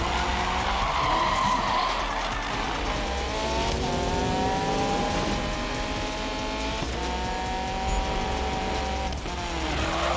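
A Mazda Miata in the Need for Speed 2015 racing game drives on with a loud, continuous engine drone and rising, whining pitch, broken by long squealing skids of the tyres throughout.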